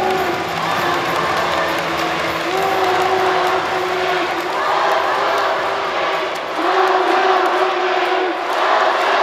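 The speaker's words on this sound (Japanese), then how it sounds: "さあ選手たちを拍手で迎えましょう。" Crowd in a basketball arena at a Happinets versus Iwate playoff game, applauding and cheering the players: a loud, roaring mass of voices and clapping that swells and dips in waves, with a voice over the noise.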